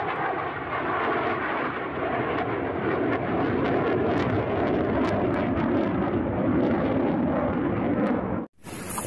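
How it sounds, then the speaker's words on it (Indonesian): A toy fighter jet plays a continuous loud roaring rush of jet engine noise, steady and close, cut off abruptly near the end before a brief bright burst. "Wah, yang ini pesawat tempur."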